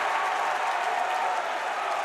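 Basketball crowd at an NCAA Division III men's Elite Eight game cheering and applauding steadily, a dense, loud wash of clapping and voices holding without a break.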